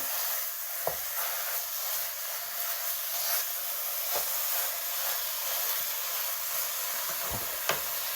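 Hamburger meat cooking on medium-high heat for a keto stroganoff, a steady close sizzle and hiss with a few faint scraping taps as the meat is broken up.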